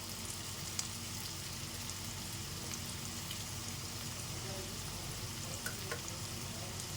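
Potatoes frying in a pan for a quick potato rice dish give off a steady, dense sizzle that holds evenly throughout, with a few faint stirring clicks.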